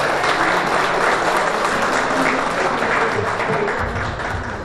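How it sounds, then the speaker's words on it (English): A Lions club event audience applauds steadily for a member's birthday, a dense even wash of clapping that carries through to the end. "Let's give her a little round of applause"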